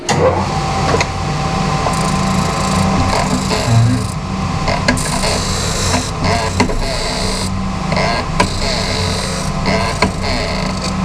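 A 3G71 surface grinding machine with a freshly fitted wheel runs continuously, a loud steady motor hum with rasping, scraping grinding texture and a few short bumps throughout, close up and without talk.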